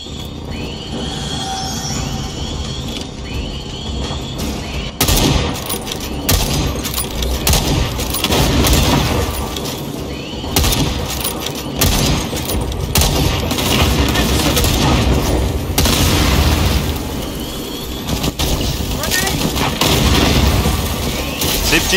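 Grenade and mine explosions in the video game Second Extinction, repeated booms and sharp blasts mixed with gunfire in a busy firefight, with voices speaking over the action.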